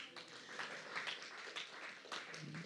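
Applause from a church congregation during a prayer and fasting service in Mannheim, a steady dense wash of many hands clapping, moderately loud and sustained throughout with slight surges.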